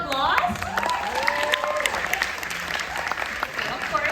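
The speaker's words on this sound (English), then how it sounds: "Please, another round of applause." Loud applause from a theatre audience after a stage performance, with cheering and whoops rising over the clapping and a voice speaking over the crowd at times.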